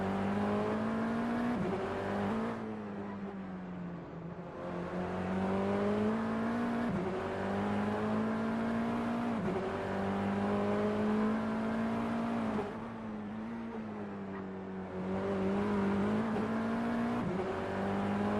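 A TCR touring race car engine drones at high revs, dropping in pitch under hard braking and rising again on acceleration in repeated cycles, steady and loud throughout with no talk.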